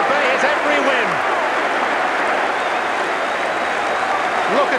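A football stadium crowd at Arsenal v Barnsley applauds a goal by Bergkamp, with loud, sustained clapping and cheering filling the whole stretch evenly.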